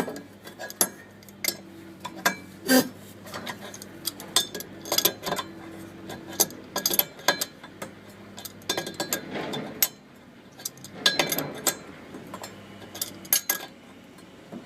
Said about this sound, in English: go ahead and loosen the nut on the shaft